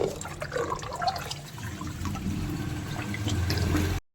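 Tap water runs and splashes steadily while something is rinsed and rubbed clean by hand, a close, moderate wash sound that continues without pause until it cuts off abruptly.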